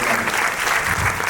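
An audience at a Gujarati mushaira poetry gathering applauds a poet, the clapping dense, steady and close for the whole moment.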